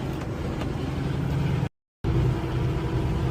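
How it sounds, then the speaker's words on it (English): Kenworth T680 truck engine labouring uphill in the Colorado Rockies with the pedal floored and RPMs sagging, a steady broad low rumble inside the cab that drops out briefly midway and then resumes. "My RPMs are dropping."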